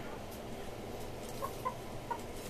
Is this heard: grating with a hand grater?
no